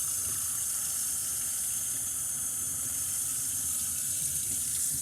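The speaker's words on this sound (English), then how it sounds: "run the hot water through it" Hot tap water gushes steadily through the purge ball holes of a hookah, a loud, constant hissing stream with no break.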